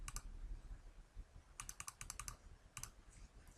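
Keystrokes on a SmartPOS point-of-sale keyboard while a manager override is entered, heard as quick bursts of clicky taps, two short flurries with a brief pair in between, no speech.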